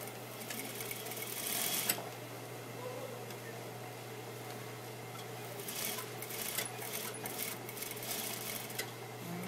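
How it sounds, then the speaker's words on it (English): A sewing machine stitches fabric along a seam with a steady mechanical hum and a soft rapid needle patter, quiet and continuous under a low electrical drone. "I'm sewing it to the seam allowance line."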